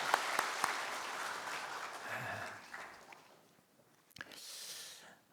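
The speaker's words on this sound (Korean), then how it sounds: "우리 박수 한번 해주세요." A church congregation applauds during a Sunday worship service after a mezzo-soprano performance. The clapping is moderately loud and fades out over about three seconds, followed by quiet room sound and a soft rustle.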